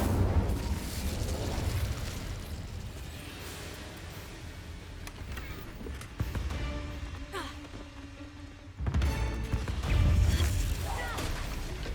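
Incendio fire spell cast in Hogwarts Legacy, a loud burst of whooshing flame with booming eruptions, a sustained roar dipping near the middle before flaring again with fresh crackling bursts.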